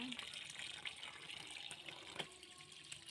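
Water runs into a TCL washing machine, a faint, steady rushing and splashing like a running tap that continues throughout at low level.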